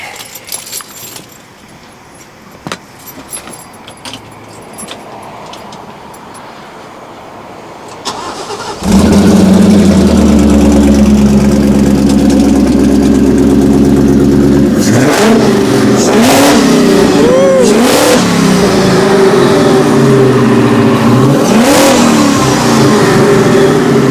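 Keys jingle faintly, then a car engine cranks and roars to life loudly, idling before several strong revs climb and fall.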